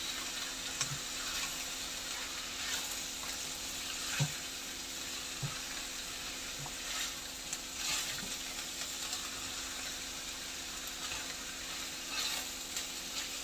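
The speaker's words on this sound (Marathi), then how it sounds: "आता याच्यामध्ये आपण घालणार आहोत गाजराचे तुकडे, बटाट्याचे तुकडे, वांग्याचे तुकडे सुद्धा परतवून घ्यायचे आपण चांगलं" Carrot, potato and brinjal pieces sauté in a pan for a mixed vegetable bhaji, giving a steady close sizzle with occasional soft stirring knocks and no voices.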